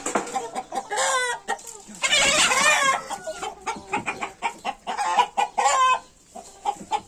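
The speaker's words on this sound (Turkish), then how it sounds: "Tavuk kaçtı, herkes rahat etsin." Chickens cluck and squawk loudly close by in repeated agitated bursts, a flurry of excited fowl calls with brief pauses between.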